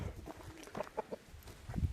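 A young Arab rooster, grandson of a well-known Hatay Çil bird, gives soft, scattered clucks close by, quiet and brief against a faint background.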